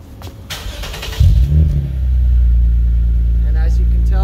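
A 2022 Lexus IS 350 F Sport started by remote, its F-Sport exhaust firing up with a brief rev and then settling into a steady, deep idle close by, with a voice talking at the start.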